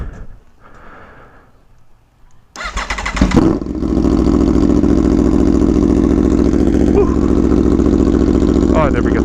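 Aprilia Tuono V4 1100 Factory, a 2017 motorcycle, cold starting: a brief crank catches into a loud, steady V4 idle that holds close and constant, with faint quiet sounds before the start.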